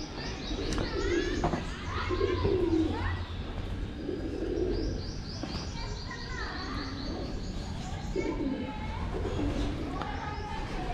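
Soft pigeon coos repeat at intervals amid chirping birds and background ambience at a Qutb Shahi-era tomb, with people talking faintly nearby.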